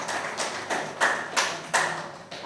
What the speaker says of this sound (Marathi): तर त्यांच्यासाठीच देखील जोरदार टाळ्या